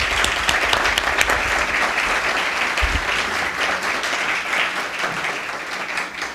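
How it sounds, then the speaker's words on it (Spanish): An audience at a medical lecture on distal radius fractures breaks into steady, sustained applause, a dense, even wash of many hands clapping that stays loud throughout with no talk over it. "yo creo que les podemos rendir un aplauso"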